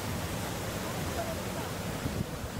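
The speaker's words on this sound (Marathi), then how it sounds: "शुभ्र फेसाळणारा हा धबधबा आहे." Monsoon waterfall, white and foaming, seen from a glass bridge: a steady, dense roar of rushing water fills the whole clip with even loudness, like continuous surf, with no pauses.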